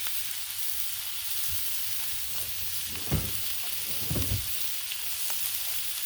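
New York strip steaks sizzle steadily on a Blackstone griddle, a constant high frying hiss with a few low knocks and bumps of handling partway through.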